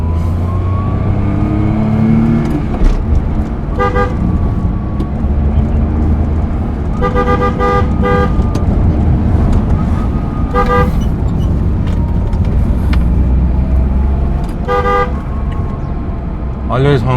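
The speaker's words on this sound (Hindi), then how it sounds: "Always honk on the turns, especially if you are shooting like this" A Maruti 800 car horn honking several times in short separate bursts on a narrow road, over steady engine and road noise inside the moving car, with someone talking throughout.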